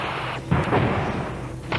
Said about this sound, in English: The Muslims were apparently launching a local offensive with machine gun, rocket and cannon fire.